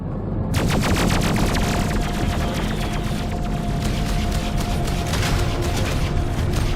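Rapid, continuous bursts of space combat gunfire from the Freelancer video game pound away without pause over a low engine hum and a faint steady tone, loud and dense throughout.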